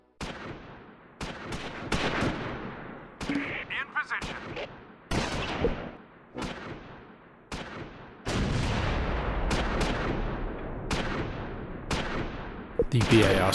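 Tank cannon and small-arms fire in the Battle of the Bulge strategy game Close Combat 4 at Esch-sur-Sûre: loud, sharp shots crack at uneven intervals, followed by a long rumbling stretch of sustained gunfire.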